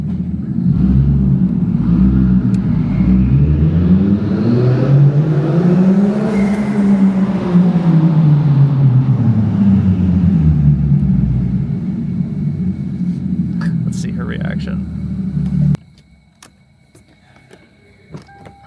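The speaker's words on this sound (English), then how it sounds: "the turbo is making a weird noise" A car engine fitted with a turbo, which has developed a strange noise, runs steadily with a deep rumbling drone. Its pitch swells and falls through a rev. The sound then cuts off abruptly near the end, leaving faint background noise.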